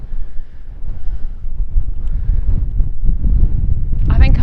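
Strong gusty wind on open moorland buffets the microphone in loud, rumbling bursts that rise and fall, with a brief rustle toward the end.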